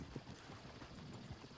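Horses in Red Dead Redemption 2 clop along in a quiet, steady run of hoofbeats under a wash of ambient noise, faint and fairly distant.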